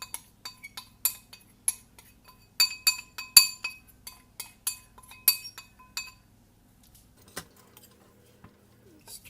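A spoon stirs strawberries in a glass bowl, making a run of crisp, irregular clinks against the glass that cluster in quick bursts, then thin out to a few scattered taps near the end.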